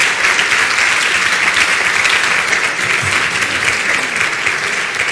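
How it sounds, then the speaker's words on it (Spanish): A church congregation at a Sunday service breaks into loud, sustained applause, a dense steady roar of many hands clapping that fills the room without a break. "Un aplauso al rey, vamos."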